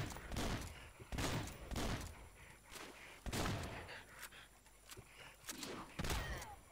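Bursts of gunfire in the video game Swamp Attack crack repeatedly at an irregular pace, some volleys close together, over a busy background of game noise.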